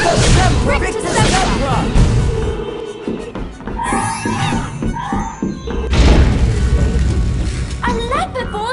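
Depulso spell cast in the Harry Potter and the Prisoner of Azkaban PC game: a loud thumping burst over game music and effects, with voices speaking throughout.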